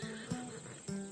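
A horse in the ancient Greek world of the game Assassin's Creed Odyssey lets out two short, nearby whinnies, clear and alone, about half a second apart.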